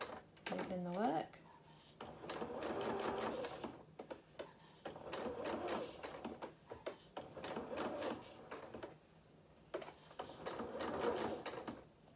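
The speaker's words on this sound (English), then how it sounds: "we'll switch over to zigzag and we will zigzag those edges" Sewing machine running a zigzag stitch along fabric edges, in several short bursts of rapid mechanical whirring and clicking, close by, alternating with a voice talking.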